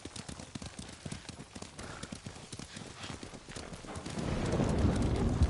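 Horse hooves clip-clop in a quick rhythmic gallop in the video game Ghost of Tsushima, nearby, before a rising rumble of movement swells toward the end.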